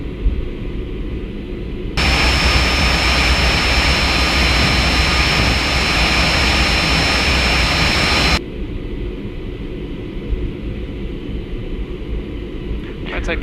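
A Lufthansa training jet taxis back toward its hangar, a loud steady jet engine roar with a high whine that starts abruptly, holds for about six seconds, then drops back to a quieter hum.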